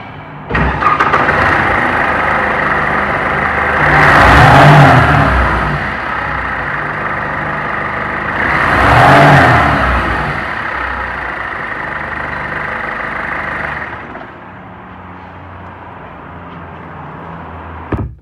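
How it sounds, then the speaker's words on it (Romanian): A high-mileage Mercedes E-Class diesel engine, about 907,000 km, runs at a steady idle with a clattery tone, rising in two brief revs, then dropping to a quieter hum near the end. "mie mi se pare că motorul sună bine"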